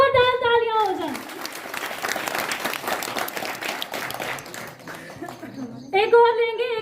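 An audience applauds at the grand opening of a children's play zone, a dense burst of clapping lasting several seconds, with a speaker's voice before and after and children's voices mixed in.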